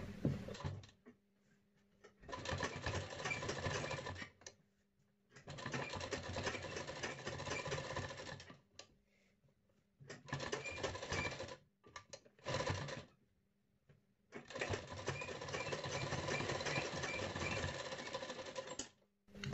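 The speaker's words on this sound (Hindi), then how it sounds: "उसके बाद गले पर सिलाई लगा देंगे।" A sewing machine stitches the neckline of a matka-neck blouse in several separate runs of steady mechanical whirring, each lasting a few seconds with short pauses between, close and clear with no talking.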